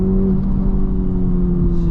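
A 2023 Honda Civic Type R driven hard, its engine droning steadily at high revs from inside the cabin, a deep continuous tone with road rumble beneath.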